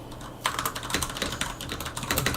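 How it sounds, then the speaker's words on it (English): Fierce, rapid typing on a computer keyboard, dense clattering keystrokes close up and continuous, with no talk over them. "I love the fierce typing sounds now"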